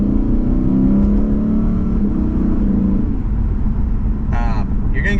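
Lexus RCF Track Edition V8 engine droning steadily while driving, a continuous loud rumble with a brief higher whine near the end.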